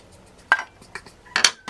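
Eggs and onions quickly stirred in a pan, a handful of close metallic utensil clinks and scrapes against the pan in an irregular rhythm, with no talking.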